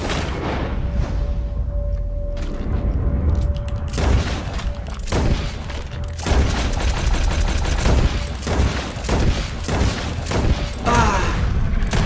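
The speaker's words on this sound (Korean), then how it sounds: "Put every bullet you got in him." Rapid gunfire crackles through a swamp shootout in the video game Red Dead Redemption 2, with bursts of shots and booms layered over game music and voices.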